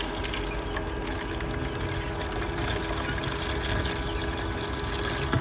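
Water poured into the reservoir of an egg incubator's humidifier, a continuous close trickling and splashing at even level with a faint mechanical hum beneath.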